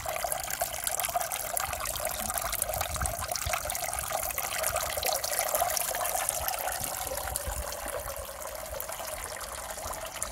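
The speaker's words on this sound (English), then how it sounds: "Now the filter's running." A running garden pond filter gives a steady, close, continuous trickle and splash of water with a broad hiss, unbroken for the whole stretch and without voices.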